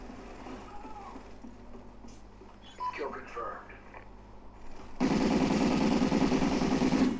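Rapid automatic gunfire from a weapon in Call of Duty: Ghosts with dodgy recoil bursts out loud and continuous in the final seconds, after a stretch of quieter game sounds and distant action.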